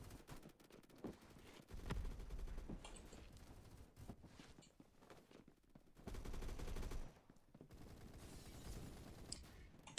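MP7 submachine gun hip-fired in Roblox Phantom Forces, rapid automatic bursts of gunfire in several separate strings with short pauses between, plus scattered single shots and mechanical clicks.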